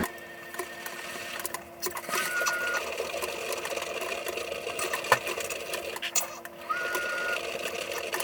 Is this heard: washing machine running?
yes